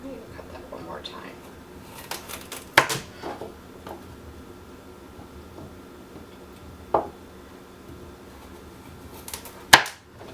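A knife chops through fat carrots on a board in three sharp separate cuts, close and crisp, spaced several seconds apart under quiet background and a speaking voice.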